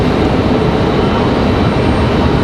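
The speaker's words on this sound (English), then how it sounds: "We got an American A321 ready for departure." An American Airlines A321 jet departing from Raleigh-Durham airport produces a steady, broad roar heard alone and at constant loudness for a couple of seconds.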